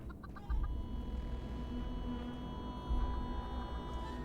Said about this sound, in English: I definitely hear a chicken around somewhere.